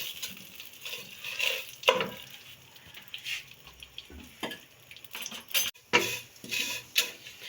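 Fine vermicelli frying in hot ghee for kheer, with a continuous close sizzle broken by frequent scrapes and taps of a spoon stirring against the pan, and no voices.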